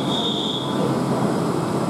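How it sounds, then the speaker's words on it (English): A steady rumbling roar of a South Western Railway train departing Brockenhurst station along the rails, with a thin high squeal at first that fades away. "There goes my train."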